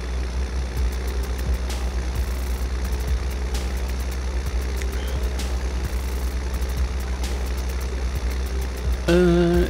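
Tractor engine idling in Farming Simulator 2017, a steady low mechanical drone that holds evenly throughout with faint clicking ticks over it, ending in a short tonal game sound.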